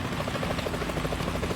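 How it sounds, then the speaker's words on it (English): Helicopter in Metal Gear Solid 2: a steady, close rotor chop with a fast regular thumping pulse over a low engine rumble, continuous and fairly loud throughout. "Is that a chopper I just heard?"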